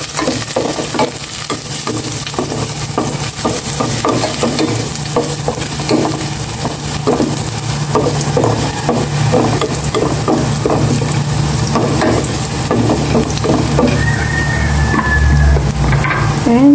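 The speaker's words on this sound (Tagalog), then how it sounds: "Magisa na ako ng bawang." Garlic sautéing in hot oil in a small, quick-heating pot, a loud, close sizzle with a rhythmic run of scraping stirs across the middle, and no one speaking.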